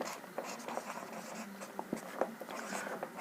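Pen on paper, close and fairly loud, writing out a narration rule with quick strokes and sharp taps as letters are formed, no voice over it.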